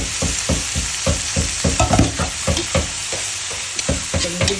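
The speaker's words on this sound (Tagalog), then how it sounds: "Lagyan tayo ng bawang, sibuyas, luya at kamatis." Garlic, onion, ginger and tomato sautéing in a pan, with a steady close sizzle and repeated rhythmic scrapes and knocks of a utensil stirring the ingredients around, no talking.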